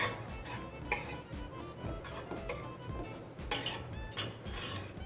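Ground cumin and mustard seed with softened peppers being stirred in a pan for chili jam, giving faint scraping, ticking and light clinks of a utensil against cookware with no talk.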